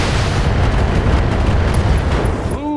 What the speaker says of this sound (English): Boom! Ammo explosion.